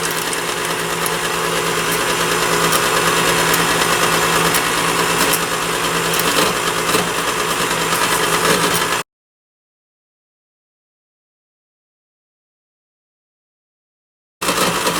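An electric stand mixer works tart dough with butter pieces, a steady whirring motor drone with knocking and clatter that runs continuously, breaks off into silence, then returns.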